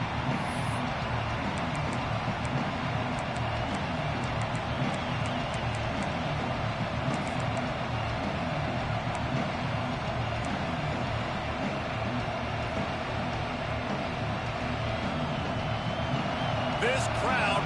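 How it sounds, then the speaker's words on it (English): Loud, steady roar of a football stadium crowd at an Arizona State game, a dense wall of cheering and noise sustained throughout with no breaks, a commentator talking over it. "This crowd bringing an ear-splitting welcome to their visitors."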